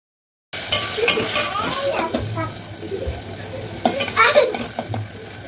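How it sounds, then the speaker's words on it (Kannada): Tomatoes fry in oil in a pan for pepper rasam, giving a close, uneven sizzle with stirring scrapes and a few clattering knocks of a utensil against the pot. "ಟೊಮೆಟೊ ಫ್ರೈ ಮಾಡಿ ಮೆತ್ತಗಾಗೋ ತನಕ ವೇಟ್ ಮಾಡಬೇಕು."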